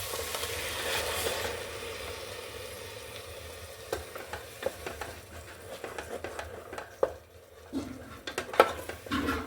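Tomato puree goes into a hot frying pan and is stirred, a steady sizzle running throughout with scattered clinks and scrapes of a spoon against the pan, growing sharper toward the end.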